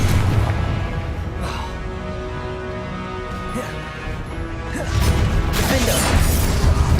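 A Confringo fire spell blast in the Hogwarts Legacy video game: a loud, dense burst of crashing, booming impact noise that swells near the end amid continuous game effects.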